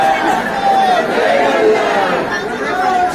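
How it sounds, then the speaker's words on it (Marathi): Dense crowd chatter fills the Khandoba temple courtyard at Jejuri, a continuous close babble of many voices with no single speaker standing out. "मंदिराच्या आवारात बघा किती गर्दी आहे."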